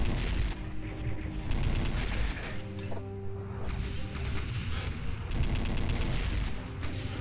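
A weapon's alternate fire in the Heretic video game, Brutal Heretic RPG mod, set in an ice grotto: loud, dense bursts of rapid blasts and mechanical clatter that keep going with brief shifts, no voices.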